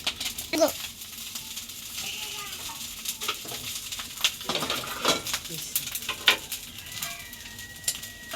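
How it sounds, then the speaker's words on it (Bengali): Eggs fry in hot oil in a pan with a crackling, uneven sizzle, punctuated by sharp pops and clinks of utensils. The sound is close and moderately loud. "ডিম ভাজি করে আনতেছি"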